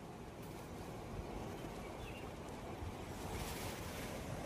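Ocean surf washes steadily onto the shore at Corbyn's Cove beach in the Andaman Islands, a continuous broadband rush of breaking waves mixed with wind buffeting the microphone, no voices.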